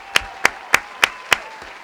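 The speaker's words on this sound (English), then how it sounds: "Everybody in the background is clapping" Several people in the background clap slowly and evenly, five or six sharp, close claps in a steady rhythm with no talking.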